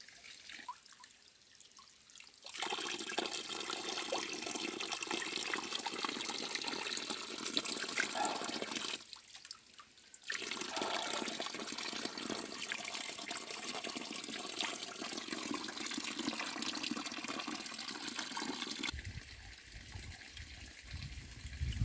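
Mountain spring water at the Kümbetir plateau pouring steadily in a close, loud gushing stream that drops out briefly twice, with quieter trickling at the start and end; no speech.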